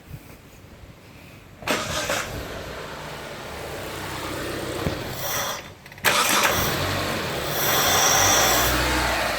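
A Mitsubishi Lancer engine is cranked and caught as the key is flicked, the idle surging back up with a steady hum after each restart, close and fairly loud.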